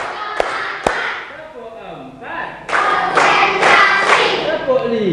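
Students play a rhythmic counting clap game as a classroom ice-breaker: a couple of sharp single claps, then voices chanting, then a burst of louder group clapping in short patterned beats mixed with chanting.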